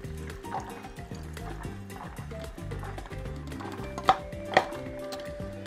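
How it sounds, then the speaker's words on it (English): Film stabilizer poured from a developing tank back into a bottle during home color film processing, a soft continuous liquid trickle with a couple of sharp clinks of container contact near the end. "gonna go ahead and dump the stabilizer back into this bottle"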